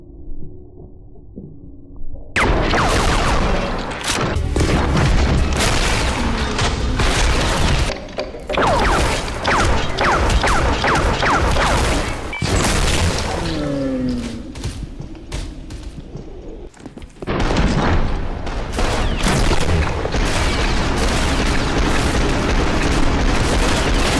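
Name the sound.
distorted gunfire and explosions from video game Maximum Action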